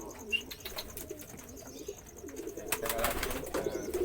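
Several pairs of pigeons cooing during courtship, soft repeated coos at close range over a low background, with a brief spoken remark.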